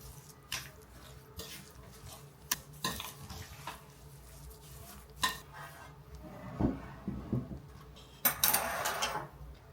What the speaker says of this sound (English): Going to mix this.